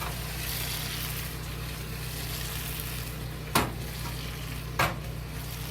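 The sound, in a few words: fish sizzling in pan with cooking wine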